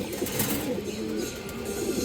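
A pigeon coos steadily, close and moderately loud, among a coop of pigeons kept for sale.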